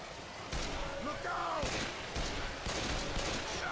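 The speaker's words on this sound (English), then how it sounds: "Let me go in front, I've got the chain gun." A chain gun firing in Left 4 Dead 2 on the Cold Stream campaign, a loud dense rattle of rapid fire that continues almost throughout, with players talking over it.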